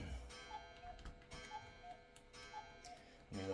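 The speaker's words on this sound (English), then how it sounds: "let my cuckoo clock finish cuckooing" A cuckoo clock calls three two-note cuckoos at a steady pace over soft ticking, faint and distant.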